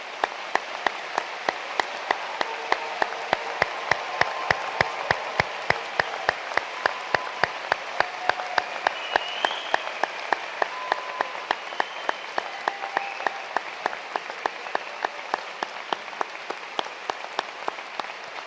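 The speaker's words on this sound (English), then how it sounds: "please join me in a round of applause for today's graduates" A large hall at a University of Edinburgh Law School graduation ceremony fills with sustained applause for the graduates, a dense, even wash of clapping with a steady rhythmic beat running through it for the whole stretch.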